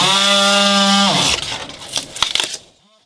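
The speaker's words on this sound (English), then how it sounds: "So let me go ahead and get this cut off and show you what it looks like. I'll use this multi-tool and should cut off pretty easy." An oscillating multi-tool cuts off a damaged section of a Boston Whaler boat hull: a loud, steady buzzing whine for about a second, then rough grinding and crackling bursts as the blade bites before stopping.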